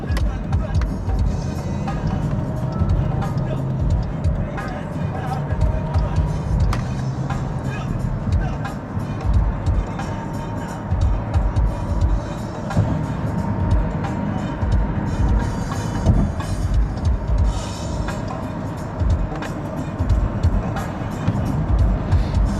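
Steady road traffic rumbles around a car on a commute to work, a continuous low drone of engines and tyres with passing vehicles swelling and fading throughout.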